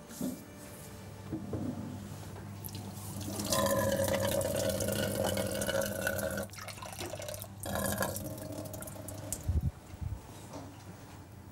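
Water from a tap runs and splashes into a bowl of biscuit dough being kneaded, a steady stream broken by brief pauses and drips, heard close and fairly soft with no speech.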